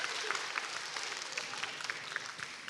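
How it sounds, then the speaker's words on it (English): A school assembly audience gives a round of applause for a ten-year-old boy, sustained lively clapping with individual sharp claps standing out, fairly close and even throughout. "Give him a round of applause."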